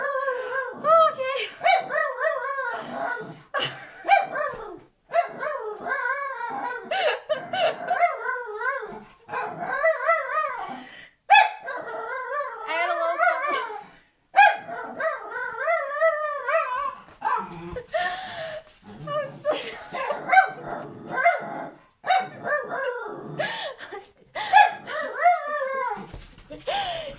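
Excited pet dogs bark, yip and whimper indoors in repeated bursts, fairly close, with a person talking over and between the barks.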